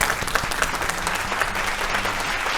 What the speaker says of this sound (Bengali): দুজনের জন্যই জোরে হাততালি একবার।